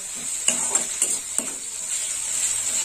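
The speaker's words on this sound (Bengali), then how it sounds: "মশলাটা ভালো করে কষে নেব" Spice paste frying with small bay leaf pieces for a Bengali prawn malai curry, a steady close sizzle with a few sharp spoon scrapes and taps against the pan in the first half, no voices.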